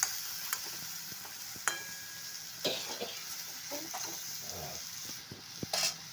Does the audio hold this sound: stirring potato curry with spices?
yes